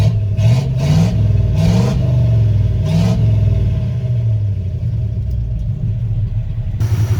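A 1972 Chevrolet C30 truck, left abandoned on a farm for 15 years, idles with a deep steady rumble and several short revs rising above it, heard up close.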